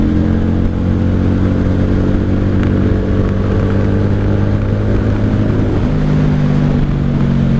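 A 1995 Honda Shadow VLX 600 motorcycle riding, its steady engine drone loud and close with a continuous low rumble, shifting pitch near the end as it changes speed.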